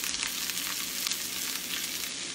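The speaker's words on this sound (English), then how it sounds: "Fry the carrot." Carrot strips for Korean kimbap fry in a small pan, a dense, even sizzle heard up close and alone.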